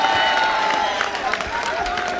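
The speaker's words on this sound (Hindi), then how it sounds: "एक बार दोनों हाथ खड़े करके जोरदार तालियां बजाएं जितेंद्र अवार्ड साहब के लिए।" Audience applause and cheering for an honoree at a Hindi/Urdu speech gathering: a steady, dense wash of clapping and crowd noise that holds for the whole stretch, with a faint tonal line running beneath.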